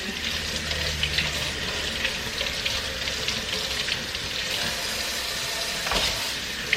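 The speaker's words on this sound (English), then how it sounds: "so I'm just going to give it a really good rinse" Fresh corn rinsed under a running kitchen tap makes a continuous, even rush of water close by, with faint splashes and a brief louder splash near the end, and no speech.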